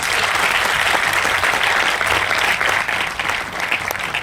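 An audience at a Vestige business event in Kanpur applauds loudly and steadily, a dense, continuous roar of many hands that dips briefly before carrying on.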